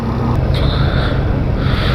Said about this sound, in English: this thing is either cammed or has a bad exhaust gasket. Either way, it sounds awesome